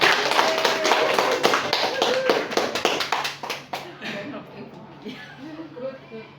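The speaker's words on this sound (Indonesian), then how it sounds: "terima kasih tepukan untuk Bu Lara." Applause for a teacher at a school workshop on positive culture, a burst of claps that fades over several seconds, with people talking underneath.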